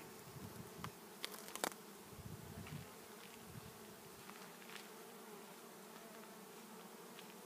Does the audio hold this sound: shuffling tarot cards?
no